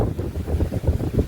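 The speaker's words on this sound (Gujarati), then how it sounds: "ફૂલ વાવાઝોડા જેવો પવન પણ ચાલુ થઈ ગયો છે." Strong stormy wind during an unseasonal rainstorm in Rajkot, a loud low buffeting roar with gusty pulses hitting the microphone, continuous and close, with no talking.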